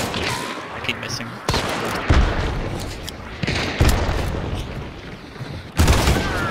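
Video game gunfire during a fight on a dock: repeated loud booming shots and bursts of fire at irregular intervals, with players talking over the action.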